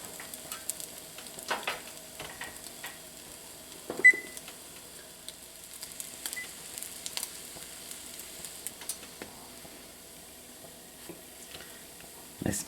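Custardy French toast fries quietly in a pan, a faint steady sizzle broken by scattered soft clicks and one brighter clink, with no voices.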